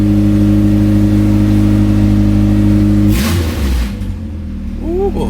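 A Honda B16B Type R engine swapped into an EG Civic revs loudly with a steady drone, then drops sharply in a quick burst before settling to a lower idle, with a brief exclamation from a person near the end.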